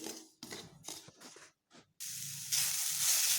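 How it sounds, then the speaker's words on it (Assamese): Grated coconut frying in a pan, first a few short scraping bursts of stirring, then a steady hissing sizzle that grows louder toward the end. "নাৰিকলখিনি অলপ মই শুকান হোৱালৈকে ভাজি লওঁ।"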